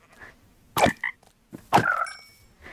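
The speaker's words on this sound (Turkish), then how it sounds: "ne bu kurbağa?" Two loud, throaty croaking calls a second apart, each a burst followed by quieter chirps, a frog croaking in a video game.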